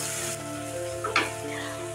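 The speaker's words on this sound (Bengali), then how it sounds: "পেঁয়াজটা দিয়ে এবারে তেলের মধ্যে ভালো করে ভেজে নিচ্ছি" Onion and tomato fry in hot oil in a pan, giving a steady close sizzle, with a brief scrape of stirring near the middle. No voices.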